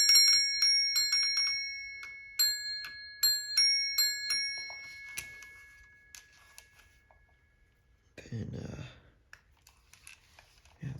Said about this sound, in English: Here's your coil, bell coil, the two bells.